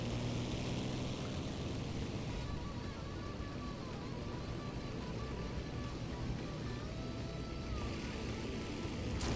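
A WWII Luftwaffe propeller airplane engine in the Garry's Mod video game drones steadily and continuously at a low, even level throughout, with no talk over it.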